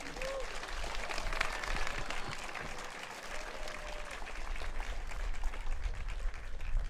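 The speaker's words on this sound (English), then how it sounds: "So, I want to give a quick round of applause for René," Audience applause for René at a team roll-out event livestream, a steady, fairly quiet wash of clapping heard from a distance with crowd murmur underneath throughout.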